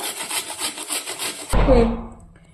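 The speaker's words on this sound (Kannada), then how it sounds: "ಇನ್ನು ಉಳಿದದ್ದು ಎಲ್ಲಾನು ಹಿಂಗ ತುರ್ಕೊಂಡು" A peeled radish is rubbed against a hand grater in steady, rhythmic, close scraping strokes for about a second and a half, followed by a short thud and fading clatter.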